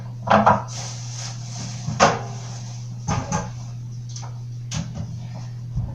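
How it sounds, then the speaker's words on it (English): Several wooden and metallic clunks and knocks spaced over a few seconds, like a door being handled and a tray sliding, over a steady low hum. "open the oven door and slide it in"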